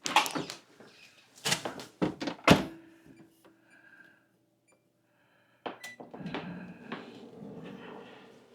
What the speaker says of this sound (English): I'm just gonna put these in the microwave for maybe, I don't know, a minute.